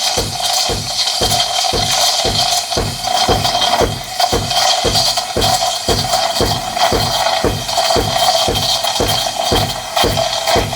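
Steam wand of an espresso machine stretching milk into microfoam in a jug, a close, loud continuous hiss broken by a fast, even pulsing of papery tearing bursts, sustained throughout without voices.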